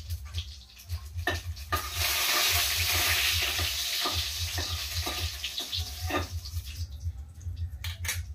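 Dry red chillies and bay leaves fry in hot oil with cumin for a home-cooked potato curry, giving a steady close sizzle broken by intermittent stirring scrapes and clinks of a utensil against the pan.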